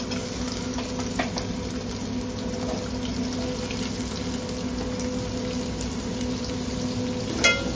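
Chopped onions fry in a pan after the garlic has browned, giving a steady close sizzle and hiss that runs throughout with no speech, plus a brief clatter near the end.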